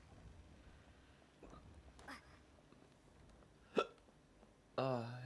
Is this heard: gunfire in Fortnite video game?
no